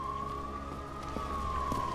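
Police car siren in the video game Nobody Wants To Die, a continuous wailing tone that slowly rises and falls over a low rumbling background.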